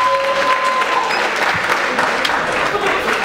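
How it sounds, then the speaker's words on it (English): A crowd applauds loudly and continuously in a dense, close wash of clapping that holds steady for a few seconds, with faint voices mixed underneath. "Fuck you clapping for."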